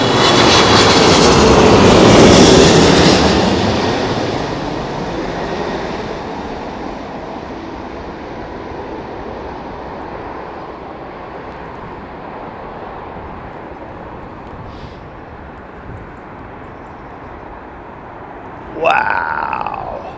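A Delta Airbus A330-200 lands at London Heathrow in strong wind, its loud jet roar swelling early and then fading to a steady distant rumble, with a brief higher whine near the end.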